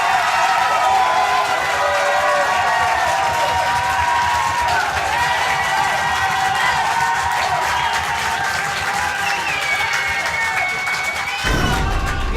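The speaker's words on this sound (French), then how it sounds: "Si l'on en juge aux applaudissements" A large audience claps and cheers continuously for a contest winner, a dense, loud wall of applause with whistles and shouts rising above it, holding steady before cutting off abruptly near the end.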